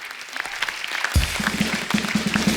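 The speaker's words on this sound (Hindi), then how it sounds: "तो एक बार जोरदार तालियां हो जाए" Studio audience applause on a Hindi TV comedy show breaks out suddenly partway through and swells into a dense, steady clatter of many hands, replacing a quieter stretch of room noise.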